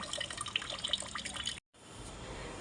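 Water pours from a container into a plant-feed mixture being thinned down, a close, continuous splashing trickle that stops abruptly, then gives way to a softer, quieter flow.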